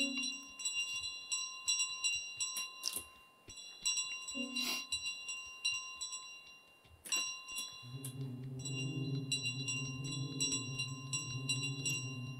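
Bell chimes in Untitled Goose Game ring out several times in bright, clear strikes over a soft, quiet game soundscape, with a low hum rising near the end.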